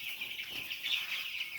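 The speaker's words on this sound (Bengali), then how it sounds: "মুরগিগুলো অনেক চঞ্চল আছে" Broiler chickens cluck and chirp softly in a coop, their calls overlapping in a constant, fairly faint chatter from several birds at close to middle distance.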